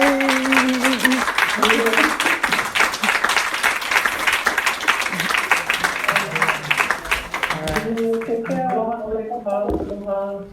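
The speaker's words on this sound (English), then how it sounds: "A second applause for you all." An audience applauds a panel on Maui, with sustained, fairly loud clapping under overlapping voices that then thins out as people keep talking.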